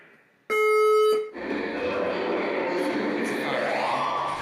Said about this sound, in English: The fire alarm system has operated.